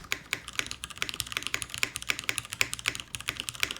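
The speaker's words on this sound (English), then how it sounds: "I personally think the Alpha spacebar, to me, sounds really nice." Mechanical keyboard from the Milan TKL typed with an Alpha spacebar, a steady run of crisp, close clicks and clacks about four or five per second, with no voices.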